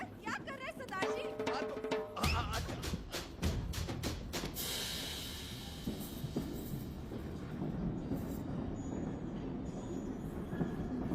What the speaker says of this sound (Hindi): तेरी ट्रेन छूटी जा रही है